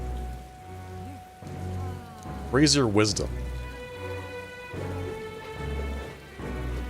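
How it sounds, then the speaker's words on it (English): Steady rain falls in the Metaphor: ReFantazio video game, with a distant thunder rumble partway through, all beneath a person talking and a game voice speaking. "Rain."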